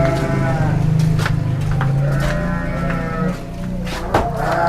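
Livestock calls ring out from a pen of fighting rams, with drawn-out bleating and lowing that repeats steadily over a constant farmyard background, fairly close and loud with no talk.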